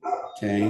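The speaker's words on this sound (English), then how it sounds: "please excuse the barking in the background" A dog barks in the background during a cultural psychology lecture, a brief yip-like bark heard under the lecturer's short spoken word.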